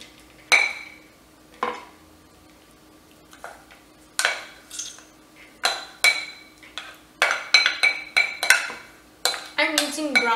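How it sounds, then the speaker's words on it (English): A spatula mixing cooked brown rice in a bowl makes close, irregular scrapes and clinks against the bowl, growing quicker and denser toward the end. "I'm going to use my spatula to mix everything"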